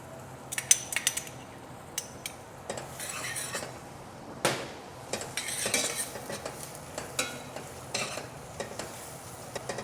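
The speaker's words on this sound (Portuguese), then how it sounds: "Vamos entrar com o alho agora." Garlic goes into a pan of butter and dried beef and gets stirred, with repeated scraping and clinking of a utensil against the pan over a soft, steady sizzle, no voices.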